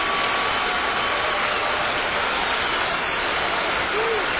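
A dense, steady roar from a crowd of about 46,000 fills Yankee Stadium during the Oakland Athletics at New York Yankees game on July 24, 2009. It stays loud and continuous without any clear break.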